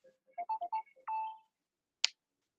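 A telephone ringtone plays a short electronic melody of quick chiming notes ending in a longer held tone, faint and thin as if heard through an online meeting, followed by a sharp click.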